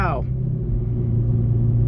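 A 2015 Hyundai Genesis Coupe accelerates, giving a brief rising whine at the start before settling into a loud, sustained low engine rumble.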